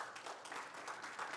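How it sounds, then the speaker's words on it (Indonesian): A church congregation claps together during a worship service, a steady, fairly faint wash of applause that holds for a moment without any talk over it. "Tepuk tangan bagi Tuhan Yesus."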